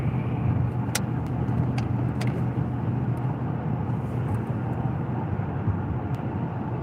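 Steady road rumble from inside a truck driving on a highway at speed, continuous low engine and tire noise with faint clicks, no talk.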